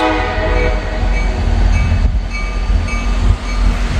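An intermodal freight train rolls past close by, a loud continuous rumble of cars with rhythmic clattering and a sustained horn tone at the start, steady throughout with no talking.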